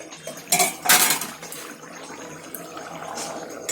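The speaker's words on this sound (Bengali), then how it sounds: "তো ভালো করে মিশিয়ে নিচ্ছি" A utensil stirs bottle gourd, potato and fish curry in a metal pan, sending a few loud scraping clatters near the start, then a softer steady clinking and shuffling of the thick mixture.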